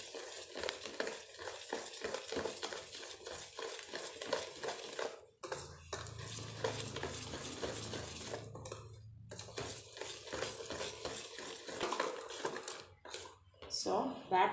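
Rava cake batter being whisked together with cooled milk in a bowl, a steady run of quick scraping and clinking strokes with a spoon against the sides, close and fairly loud, with a brief pause partway through and talk heard alongside.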